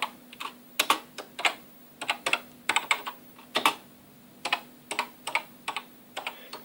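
Keys clack on a clunky, heavy BBC Micro keyboard as a BASIC program is typed, a close, loud run of uneven keystrokes in bursts with short pauses between.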